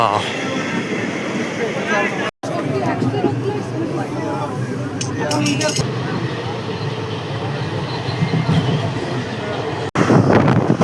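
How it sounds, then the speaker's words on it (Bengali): A local train bound for Kolkata rumbling steadily with carriage clatter and crowd babble, people talking over it, and a short dropout near the start and another near the end. "এই দেখো চলো ট্রেনে চেপে এবার চলি কলকাতায়।"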